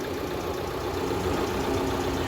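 Steady, close idle of a Jeep Compass Longitude diesel engine, a Fiat-sourced unit, with a constant low rumble and faint knocking texture, heard alone without talk.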